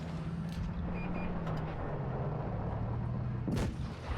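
Tank guns firing in the World of Tanks Blitz battle game during a Tier 6 Soviet medium tank match, a couple of booming shots with a louder blast near the end over steady engine drone, no talking.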